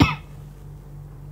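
A woman gives one sharp, close cough that fades quickly into quiet outdoor room tone.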